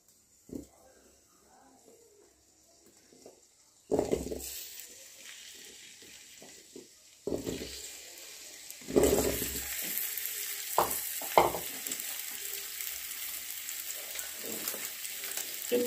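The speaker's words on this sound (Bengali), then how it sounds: "আমি এর মধ্যে আলুগুলো, কেটে রাখা আলুগুলো দিয়ে দেব। ফার্স্ট আমাদের আলুটা ভেজে নিতে হবে।" Cut potatoes dropped into lightly heated oil for an Indian potato dum dish, a quiet start followed by a sudden loud, steady sizzle with stirring clatter and bursts of crackle, rising again as more pieces hit the pan.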